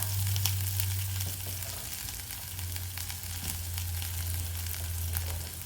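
Potatoes frying in a pan of hot oil for a batata poha breakfast, a steady close sizzle and crackle holding evenly throughout with a low hum beneath, no talking.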